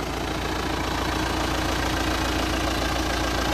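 A farm tractor idles in a field, a steady low knocking engine rumble, close and continuous with no talking.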